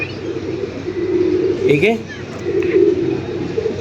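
A blue pigeon coos in low, soft, rolling murmurs close by, mixed with faint chirps, while people talk over it.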